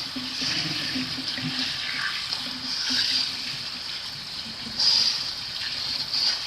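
Harvested vegetables rinsed under running water in a colander, a steady splashing and trickling flow that continues throughout with a few brief louder gushes, heard close up with no talking.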